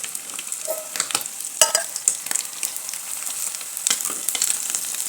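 Fish pieces sizzle and crackle in hot oil, a close, bright frying hiss with scattered pops and utensil clicks as they are turned.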